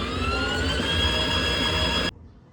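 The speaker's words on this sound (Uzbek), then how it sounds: "Mototsikl ishga tushdi." A battery-powered electric motorcycle runs with a steady, high, layered whine that holds evenly for about two seconds, then cuts off abruptly, leaving only faint background hum.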